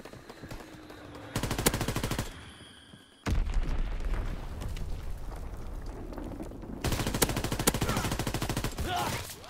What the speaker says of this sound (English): he got a shotgun shooting all the way over there